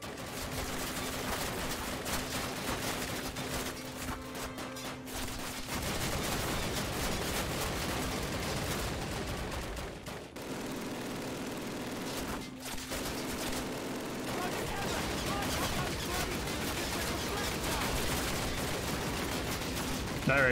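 Gunfire in the game Call of Duty (2003), a dense, continuous burst of shots and explosions with brief lulls, loud and close, under a steady engine-like drone.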